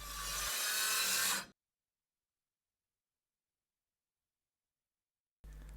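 A saw trimming excess OSB sheathing on a garden room wall, a brief close rasping cut that swells for about a second and a half, then drops to silence before faint noise returns.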